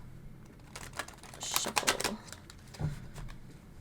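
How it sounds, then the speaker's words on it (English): A deck of reading cards is shuffled for a pick-a-pile session, giving quiet, brief riffling and flicking bursts in a calm room with no talking. "Let's give that one more shuffle."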